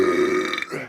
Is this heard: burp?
yes